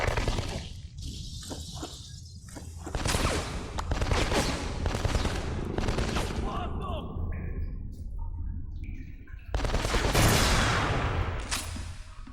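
Rifle shots in an online shooter video game crack repeatedly amid a dense, echoing battlefield of other gunfire and explosions, loud and continuous, with voices talking over the game audio.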